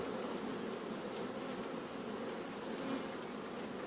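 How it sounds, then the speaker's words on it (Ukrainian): Steady, dense buzzing of many honeybees in flight at a hive entrance, a continuous droning hum with no pauses and no voices. "дивіться, скільки бджоли з пилком іде"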